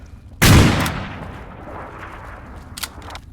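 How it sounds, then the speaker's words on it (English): A single loud gunshot in Fallout: New Vegas, sharp and close with a decaying echo, followed by a fainter second shot near the end. "I feel like I'm wasting all of my fucking ammo on this."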